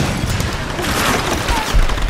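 Dense, loud gunfire from Tomb Raider (2013) on PC, a continuous rattle of shots and impacts with no pause, including a heavier thump near the end.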